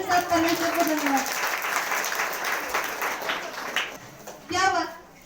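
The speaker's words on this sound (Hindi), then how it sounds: "इसलिए आप लोग तेज ताली के साथ परमेश्वर को धन्यवाद" A church congregation at a Sunday healing service claps loudly and steadily, with a few voices calling out over the applause near the start and again near the end.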